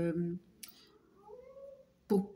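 A house cat meows at a moderate distance in a quiet room, one drawn-out call rising and falling in pitch, framed by short bursts of nearby speech at the start and end.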